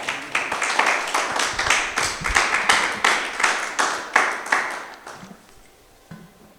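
A church congregation clapping in unison, a rhythmic run of sharp synchronized claps that builds and then thins out, stopping before the end, leaving near silence.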